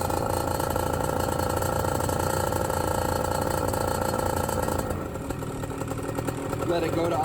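A BlackHawk TITAN 210 paramotor engine with a diaphragm carburetor runs steadily and loud during break-in, then drops in pitch and volume toward idle about five seconds in, a voice talking over it.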